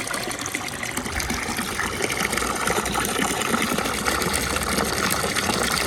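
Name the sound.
water filling a tub for ducklings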